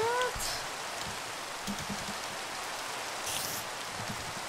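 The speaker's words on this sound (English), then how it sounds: "How do I toggle rain?" Steady rain pours in a Minecraft world, a dense continuous hiss of falling drops with brief splashes, filling the whole stretch evenly at moderate loudness with no voices over it.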